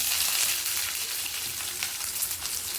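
Mustard seeds, chana dal and onion fry in hot oil inside a pressure cooker, giving a steady, close hiss and crackle with soft bubbling, continuous and unbroken throughout.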